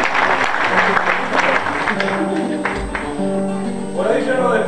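A crowd at a glosadors improvised-verse show breaks into sustained applause, with a voice talking and sounding over the clapping the whole time.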